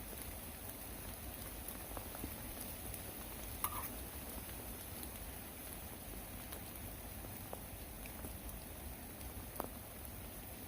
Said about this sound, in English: the rain is coming quite heavily now